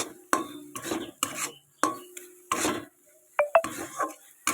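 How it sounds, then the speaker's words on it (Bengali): Spoon or spatula strokes scrape through a thick carrot laddu mixture in a pan, in steady separate swipes about every half second, with a couple of sharp metallic clicks near the end and no voices. "গ্যাসটা একটু হালকা বাড়িয়ে দেব আমি দিয়ে এটাকে সুন্দর করে নাড়াচাড়া দিতে হবে"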